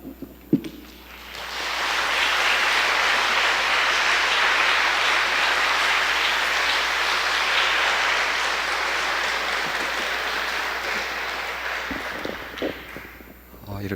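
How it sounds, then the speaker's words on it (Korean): A church congregation at a joint men's and women's mission retreat bursts into loud, sustained applause welcoming a pastor to the pulpit, building after a sharp opening clap, holding dense and steady, then thinning out near the end. "목사님 나오실 때 박수로 환영해 주십시오."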